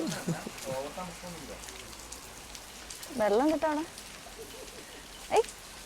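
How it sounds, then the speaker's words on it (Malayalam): A light drizzle of rain falls on a foggy hill trip in Ooty, a faint, even patter running beneath several bursts of nearby people talking. "ചെറിയ ചാറ്റൽ മഴ ഫുൾ ഫോഗ് വേറെ ലെവലാണ്"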